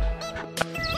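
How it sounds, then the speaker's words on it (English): Fowl at a wildlife park give short honking calls, a few quick harsh cries close to the microphone over a faint steady hum. "now we are at the wildlife park and there's some birds"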